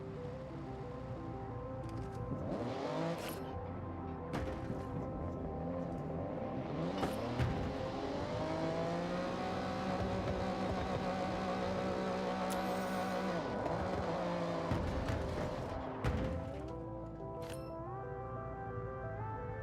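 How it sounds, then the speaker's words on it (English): A stock Nissan Fairlady's engine revs hard and steadily in a video game, its pitch climbing and falling with a whining, supercharger-like edge, loud and close with no talking. "Sounds like it has a supercharger or something."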